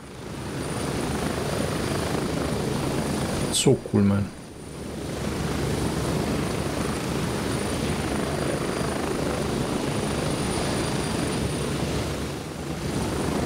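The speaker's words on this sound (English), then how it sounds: "It's nice you can shoot from the helicopter." A helicopter flies in the military shooter game Gray Zone Warfare, its steady rotor and engine drone loud and continuous throughout, with a brief sharp interruption midway and someone speaking briefly over it.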